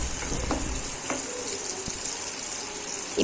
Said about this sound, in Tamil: பச்சை மிளகாவை வதக்கியாச்சுங்க